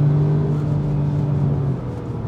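A 2017 Audi S3 Sportback Quattro Black Edition held in third gear at 4,500 RPM, its engine giving a loud, steady droning hum close inside the cabin, with no talking.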